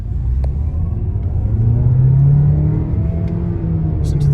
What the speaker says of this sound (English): I'm just going to floor the accelerator.